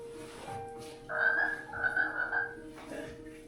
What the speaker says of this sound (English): Bloody frogs.